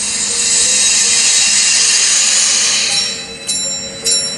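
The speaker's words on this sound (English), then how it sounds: "now I think you can hear the bell quite clearly" A bell struck inside a vacuum chamber as air is let back in rings with a bright, sustained metallic tone, growing audible with a couple of sharper strikes near the end; no one talks over it.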